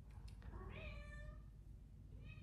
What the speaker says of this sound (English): that's my cat, Terry.